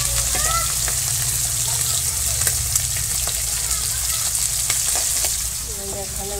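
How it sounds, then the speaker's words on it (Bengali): Katla fish sizzling steadily in hot oil in a village kitchen, with constant crackle and spatter and occasional stirring scrapes; background voices and sounds are audible beneath the frying. "এটা ভেজে নেবো।"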